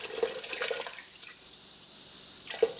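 Liquid splashes and trickles into a pressure cooker while preparing pulled pork, a short pour at the start with another brief splash near the end, close and moderately loud.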